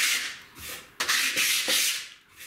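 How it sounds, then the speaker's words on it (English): Primed MDF edge is sanded lightly by hand, making a few rhythmic rasping rubs up close, each stroke a soft hiss rising and falling, with no speech. "a little bit of a sand to take off the peaks"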